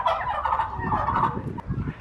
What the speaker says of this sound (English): I'm scared of the chicken.